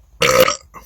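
One loud, close belch after drinking Pepsi Zero, a short raspy burst lasting under half a second, followed by a softer trailing grunt.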